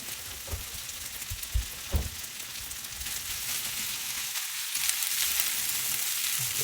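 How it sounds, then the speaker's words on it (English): Leftover salad is stirred into food frying in a pan, giving a steady loud sizzle broken by a few soft knocks of the utensil, with no voices. "A little bit of salad I need to use up. And stir that in as well."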